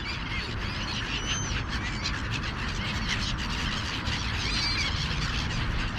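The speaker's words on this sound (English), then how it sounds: "Those are mule gulls. I think they were fighting there." A dense, continuous chorus of squawking gulls fighting, many birds calling over each other in a noisy jumble, with a steady low background rumble.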